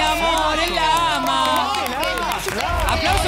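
A television studio audience on a comedy show cheers and applauds a romantic moment. The sound is a loud, continuous wash of voices and clapping, with talk and music-like tones layered over it.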